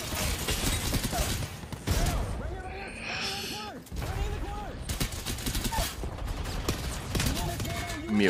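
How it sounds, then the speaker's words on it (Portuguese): Rapid bursts of energy-weapon fire from an Apex Legends match, crackling and dense throughout, mixed with game effects and a voice talking over the shooting. "Meu Deus do céu, essas armas de energia"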